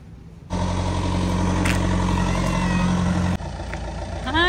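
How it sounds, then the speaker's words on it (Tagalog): A car engine arrives and settles into a steady, loud idle close by, a constant low rumble with a slight change in tone near the end. "Kilala ko na yung kung ano yung tunog ng sasakyan eh."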